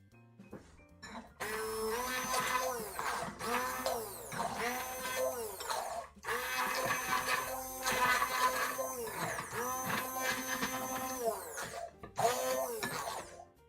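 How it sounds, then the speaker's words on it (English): An immersion blender purees mushrooms in a kitchen, its loud motor whirring steadily in several long bursts separated by brief pauses, with the pitch shifting as it churns. "This, the immersion blender."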